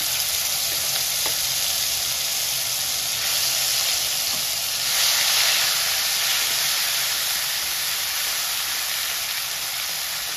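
Ground spice paste for a spicy potato dum frying in hot oil in a pan, a loud, continuous close sizzle and hiss with faint stirring, swelling briefly midway.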